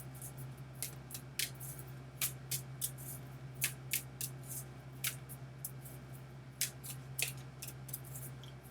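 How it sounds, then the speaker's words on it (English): Soul Lesson oracle cards for Love and Romance are shuffled and drawn from a deck, giving soft, close crisp flicks and snaps at an irregular pace over a low steady hum. "I think I'll draw the Soul Lesson cards for Love and Romance by James Van Prague."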